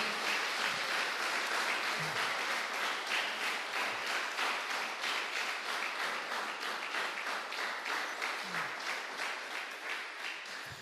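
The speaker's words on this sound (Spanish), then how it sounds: "Bríndele un fuerte aplauso al Señor." Sustained applause from a church congregation, steady and dense clapping that fills the room for about ten seconds and fades slightly toward the end, with no talking over it.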